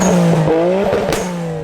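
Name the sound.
Nissan Skyline R32 GTR engine driving off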